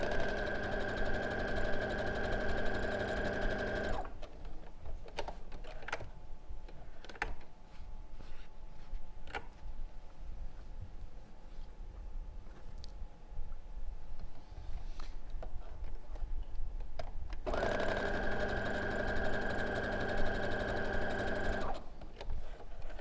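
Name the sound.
sewing machine sewing quilt rows together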